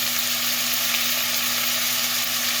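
Steady, loud sizzling of onions frying in a hot pan on high heat for aloo gobi, a continuous crackling hiss with no talking.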